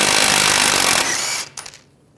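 A power tool spins hard on a rear shock bolt of a 2011-2018 Ram 1500, a loud continuous buzzing burst of about a second and a half that cuts off, followed by a few brief metallic clatters.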